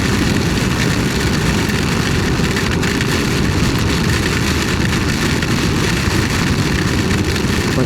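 Steady, loud heavy rain roars without a break during a storm with strong wind on the Padma River, mixed with a low rumbling drone like a vehicle moving through the downpour.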